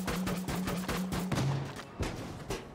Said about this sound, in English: it just fires loads of post and then mailboxes